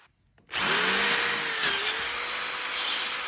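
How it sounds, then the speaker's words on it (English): A power drill bores into wood for a deer skull mount hanger, starting abruptly after a brief silence and then running as a loud, continuous whirring grind, with the motor pitch dipping slightly partway through. "You can drill a little one and then come back and kind of waller it out."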